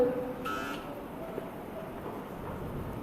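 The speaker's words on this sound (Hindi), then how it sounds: "बजर जरा एक बार प्रेस करें, मुझे बताएं बजर चल रहा है आपका।" A quiz competition buzzer sounds once as a test, a short steady electronic tone lasting about a third of a second over faint room hum, with no talking.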